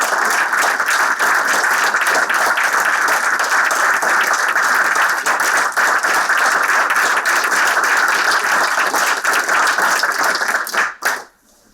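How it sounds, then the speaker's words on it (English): A hall audience gives a long, loud, sustained round of applause for journalists in Ukraine at a memorial lecture, dense clapping that carries on evenly before cutting off abruptly. "I would ask you to join me in just a round of applause for these journalists in Ukraine right now"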